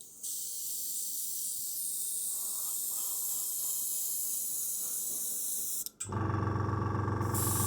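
An airbrush hisses steadily while spraying paint onto an Airfix Tiger tank model. It runs as a continuous close airy spray, then a brief dropout, and a louder, fuller rush of air takes over near the end as the Fengda FD186 compressor kicks in.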